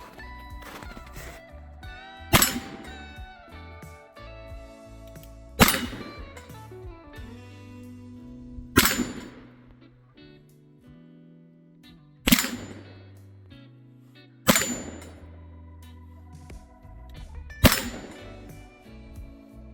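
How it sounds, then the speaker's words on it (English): Six sharp, loud shots from a Remington 1858 cap and ball black powder revolver, fired at steady intervals of about three seconds, each with a short ringing echo, outdoors on a farm, no talking. "We'll try this one now."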